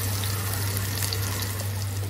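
Onion, green chilli and curry leaves fry in oil for a poori potato masala, a steady, even sizzling hiss over a low, constant hum, with no one speaking.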